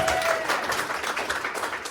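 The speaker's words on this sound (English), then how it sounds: "give yourself a round of applause" An audience applauds steadily, a dense wash of clapping from many hands that holds at an even level for a couple of seconds.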